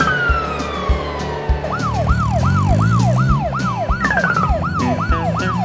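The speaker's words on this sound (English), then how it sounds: "Brazil. Police car." A Brazilian police car's siren wails in a loud rising-and-falling sweep, then switches to a fast repeating yelp close by, with a road vehicle's engine rumbling underneath.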